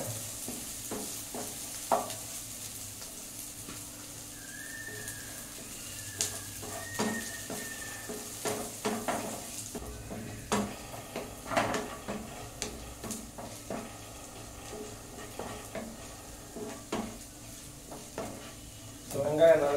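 Onions sautéing in a pan for semiya upma, a low constant sizzle with repeated clacks and scrapes of a spatula stirring at an uneven pace, close by, ending on a louder clatter.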